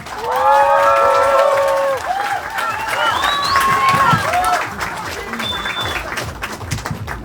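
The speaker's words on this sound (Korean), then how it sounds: "큰 박수와 함께 환영해 주시기 바랍니다" A crowd at a campaign office opening in Dongtan, Hwaseong, claps and cheers to welcome a National Assembly candidate's speech; loud, continuous applause with voices and shouts rising over it.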